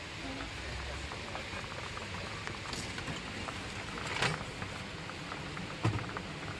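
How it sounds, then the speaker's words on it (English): Heavy rain pours steadily in Siem Reap as a dense, even hiss with occasional louder splashes, faint and continuous, with a voice speaking softly at times. "Raining. It's pouring. The rains have begun."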